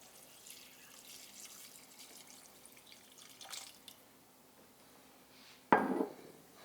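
Canned Guinness and broth pour into a cooking pot for a shepherd's pie stew: quiet clinks and faint trickles, then a short, louder splash of liquid hitting the pot near the end, with no one talking.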